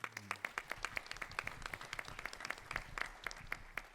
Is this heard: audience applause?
yes